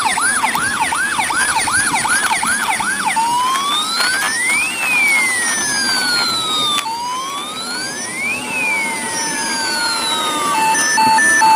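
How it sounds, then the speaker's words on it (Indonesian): A toy ambulance siren wails loudly and steadily, first as a rapid warbling yelp and then as slow rising and falling sweeps, alone without talk. "ternyata di sini ada mobil ambulan ya. Wow, ada mobil ambulan."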